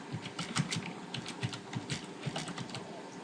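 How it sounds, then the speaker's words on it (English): Rapid clicks of keys on a computer keyboard as text is typed, a steady close patter with no talking over it. "Let's type in"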